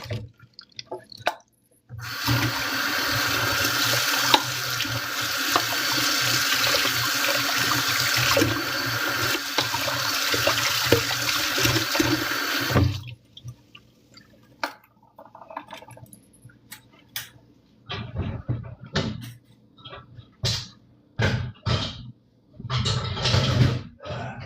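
Tap water running steadily over broccoli being rinsed in a sink, a continuous loud gush for about ten seconds, then shut off and followed by scattered drips, splashes and handling clatter.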